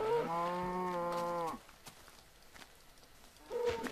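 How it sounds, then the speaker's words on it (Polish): A cow in the Minecraft video game lets out a loud, drawn-out moo. A quiet pause follows, then a second moo starts. "Dobra, mamy tę krowę jeszcze."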